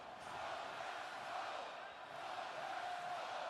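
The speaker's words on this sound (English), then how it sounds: "The crowd is fired up." A packed arena crowd roars continuously during Game 7 of the 2024 NHL playoffs between the Edmonton Oilers and Vancouver Canucks, a steady distant wash of cheering and whoops.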